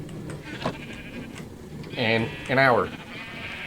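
Two sheep bleats in Minecraft, close and clear at separate moments, with brief talk heard underneath.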